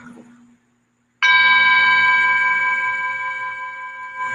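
A meditation bell is struck once after a brief near-silence, giving a loud, bright ringing tone with steady overtones that sustains and slowly fades, close and alone.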